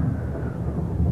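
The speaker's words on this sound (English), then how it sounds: "if this storm don't stop pretty soon, I'm going to do something about it" Thunder rolling during a storm in a 1931 sea drama, a low continuous rumble at moderate loudness with no talk over it.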